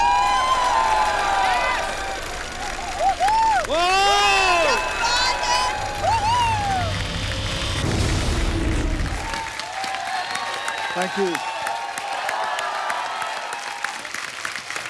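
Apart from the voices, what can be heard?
studio audience applause on comedy show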